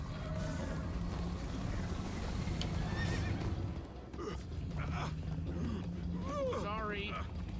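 A horse whinnies and hooves pound at a gallop amid Minecraft: Story Mode sound effects and music, with voices talking over it.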